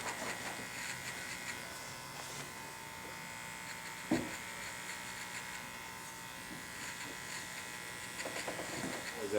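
Electric hair clippers buzz steadily at close range while cleaning up the sides of a skin-tight fade haircut, a continuous mechanical hum with a few small knocks and faint background voices.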